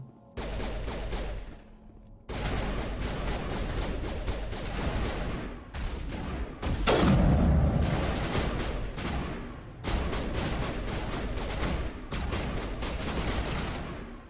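Dense gunfire from the game Mass Effect Legendary Edition, including sniper rifle shots, rattles in sustained loud volleys broken by brief gaps, with one heavier booming blast midway.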